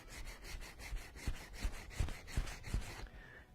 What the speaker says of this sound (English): if you use pressure, you can very easily sand away way too much leather really quickly.